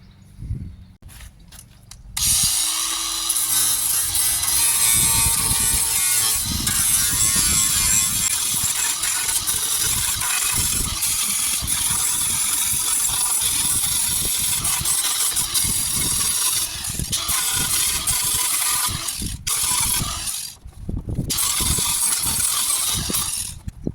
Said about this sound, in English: I'm just going to see if I can take a bit off with the angle grinder